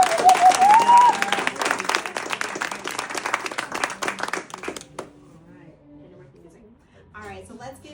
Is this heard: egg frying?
no